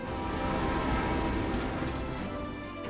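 A train approaches along railway tracks, heard as a loud, steady rumble of rolling wheels that fills the whole moment with no voices.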